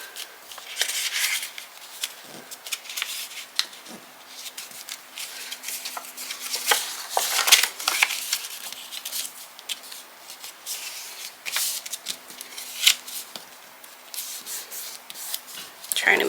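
Close paper card pieces for a pocket card are folded and creased by hand, giving soft rustles, rubs and light scraping crinkles that come in irregular bursts throughout, with no talk.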